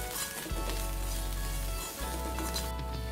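Pappadam upperi with grated coconut frying and being stirred in a pan, a continuous close sizzle with low scraping stir strokes, no talk.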